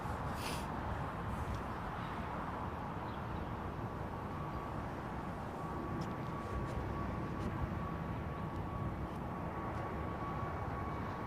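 A departing airliner takes off in the distance, a broad, steady roar of jet engines hanging over open ground with no voices.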